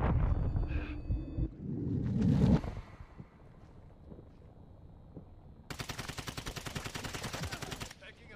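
Automatic gunfire in Call of Duty MW2 DMZ, heavy bursts early on, then after a quiet stretch a loud rapid stream of evenly spaced shots that runs for about two seconds.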